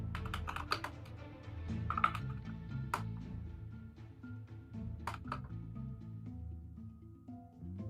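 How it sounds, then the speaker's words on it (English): Computer keyboard typed on in irregular bursts of clicky keystrokes, faint and close, with a low background hum and no talking. "How obnoxious is the keyboard?"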